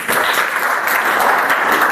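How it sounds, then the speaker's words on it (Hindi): Students in a classroom applaud a classmate in a lively burst of steady, close clapping that lasts the whole clip. "अनीसा के लिए तालियां।"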